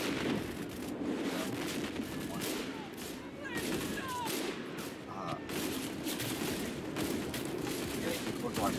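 Constant gunfire rattles through a Roblox Centaura battle, dense bursts of shots over a rumbling background that runs on without a break, moderately loud throughout.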